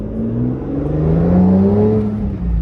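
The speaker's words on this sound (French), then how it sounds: "j'ai ouvert un peu le clapet, tu peux accélérer, on va voir ce que..." An Aston Martin revs and accelerates with its sport exhaust valve partly opened, a loud, steady, rising engine roar with a deep growl that swells and holds throughout, close by.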